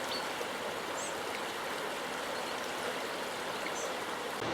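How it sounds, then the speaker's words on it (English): Water flows steadily over rocks in a stream in Glen Nevis, Scotland, a constant broadband rushing wash heard alone at moderate level with no voices. "water gently flowing over the rocks"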